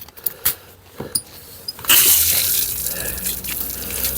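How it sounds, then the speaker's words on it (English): Water from a hose soaks the soil of a potted monstera plant, starting with a few faint drips and then turning into a loud, steady rush of spraying water that continues to the end. "I'm going to hose it down, compact the soil"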